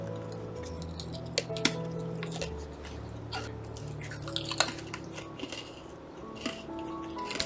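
Crisp crunching bites and chewing of a freshly baked sugar cookie, close to the mic, with irregular sharp crackles over a low background hum.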